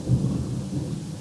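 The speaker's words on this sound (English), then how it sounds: "if you can hear in the background, it's thundering." Thunder rumbling during a storm under a tornado watch in Mississippi, a deep rolling boom with rain in the background, loud and heard alone.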